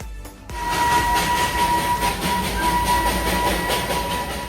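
A Darjeeling steam train runs loud and close after a brief quieter start, a dense continuous roar with rumbling clatter and a steady high whine, and no voices.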